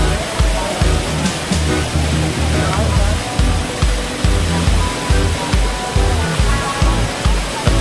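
Water fountain cascading inside Jewel Changi Airport, Singapore: a loud, steady rush of falling water fills the space, with a low rhythmic thumping and faint voices in the background.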